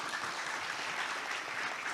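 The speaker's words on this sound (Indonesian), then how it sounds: "Tepuk tangan untuk beliau sekali lagi." An audience at a formal Indonesian forum on book-system legislation applauds, giving a soft, distant, even wash of clapping that lasts throughout.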